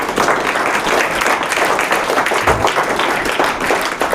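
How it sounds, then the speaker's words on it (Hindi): Students clapping together in a classroom in a loud, sustained burst of applause that fills the space evenly from start to finish. "एक बार जोरदार ताली आप लोग बजा दें"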